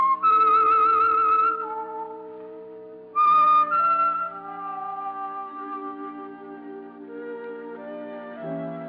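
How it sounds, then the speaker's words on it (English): Whistled theme tune of The Whistler radio program, a lone clear melodic whistle with a sustained opening phrase, a brief gap, then a second phrase of held and sliding notes, loud and close. "That whistle is your signal for the Signal Oil program, The Whistler"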